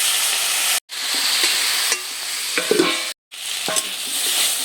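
Taro pieces frying and being stirred in a pan for a Bengali taro dish, a steady loud sizzle broken by scraping spatula strokes and two brief silent gaps, with no voices.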